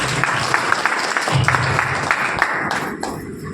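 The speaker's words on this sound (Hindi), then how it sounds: "मैं चाहूंगा एक बार दमदार ताली हो जानी चाहिए।" A seminar audience gives a burst of applause at a business-plan talk, a continuous patter of many hands with a few sharper claps standing out, heard at a moderate distance with faint voices underneath.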